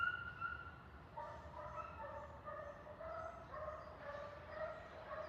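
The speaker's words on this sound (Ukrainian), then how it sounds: "Малая тявкает." Finnish hound puppy yapping in a quiet outdoor setting, a string of faint, high, repeated yips and short whiny barks at a steady pace, fairly distant.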